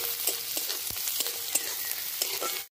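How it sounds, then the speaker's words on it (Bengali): Chopped garlic and ginger fry lightly in oil for a restaurant-style dry chilli chicken, giving a steady close sizzle with a few soft taps, ending suddenly in silence. "এগুলো সব তেলের মধ্যে দিয়ে দেবো। দিয়ে এটাকে খুব হালকা মতো ফ্রাই করে নেব।"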